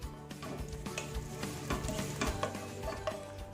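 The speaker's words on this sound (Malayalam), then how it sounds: "നെയ്യൊന്ന് ചൂടായിട്ട് വരുമ്പോൾ നമുക്ക് നമ്മളെടുത്ത് വെച്ചിട്ടുള്ള എല്ലാ സ്പൈസസും ഇതിലേക്ക് ഇടാം" Whole spices sizzle and crackle in hot ghee for a Kerala beef dum biryani, stirred in a pan with scraping clatters over a steady close frying hiss.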